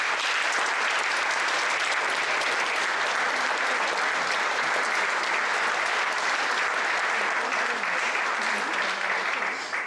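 Sustained applause from a large audience at a formal municipal celebration in Ljutomer, steady dense clapping that fills the hall for the whole stretch without fading.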